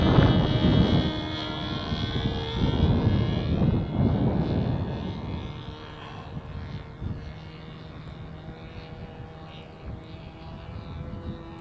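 A Sig Smith Miniplane model airplane with an 11.4 APC propeller drones loudly overhead at a model flying field, its pitch rising and falling as it passes and banks, fading somewhat toward the end.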